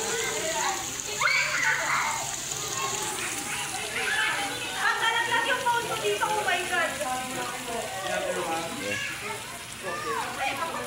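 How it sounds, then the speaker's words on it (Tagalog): Water runs and splashes at a private resort pool during a family outing, with children's shouts and chatter layered over the continuous wash of water. "May tubig rin na lumalabas doon."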